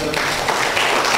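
Audience applause for a dancer at a dance performance event, a steady broadband patter of many hands clapping throughout the short stretch, moderately loud and even, with no talk over it.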